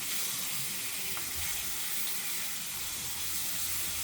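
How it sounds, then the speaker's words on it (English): Kielbasa sausages fry in a hot pan in their own oil, giving a steady, close, even sizzle and crackle throughout with no talking. "this is going to start frying my kielbasas really quick"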